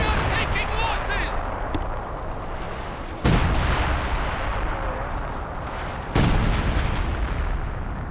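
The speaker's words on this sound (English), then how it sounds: "sector artillery quickly pops down" Artillery barrage in the strategy game Company of Heroes 2: continuous rumbling shell fire with two sharp, loud impacts cutting through, while a commentator talks over it.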